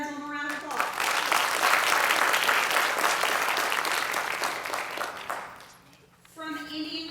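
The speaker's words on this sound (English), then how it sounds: "Let's give veterans one more round of applause" Audience applause for veterans at a middle school literacy day ceremony, a sustained loud round of clapping that swells and fades over several seconds, with a speaking voice before and after.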